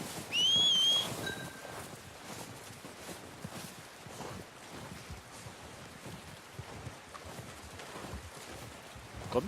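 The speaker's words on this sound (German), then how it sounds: "Drücke, um nach deinem Pferd zu pfeifen." A short, rising-then-steady whistle calls a horse in Red Dead Redemption 2. The whistle lasts about half a second and is followed by a long stretch of soft wind-like ambience, with no clear hoofbeats and no voices.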